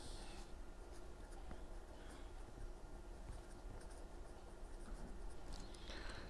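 Faint scratching of writing during an engineering lecture on microchannel flow, a soft continuous scrape in a quiet room with no talking.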